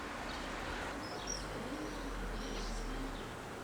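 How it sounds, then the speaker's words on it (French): Pigeons coo softly near a small village church on a hot summer day, a few low murmuring calls and faint chirps over a steady low background hum, fairly quiet and somewhat distant. "Il y a des pigeons partout là"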